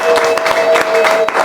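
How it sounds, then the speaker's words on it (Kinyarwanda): A congregation claps for God in a church service, steady dense applause with faint crowd noise throughout the short moment, fairly loud and close. "Wakomera Imana amashyi"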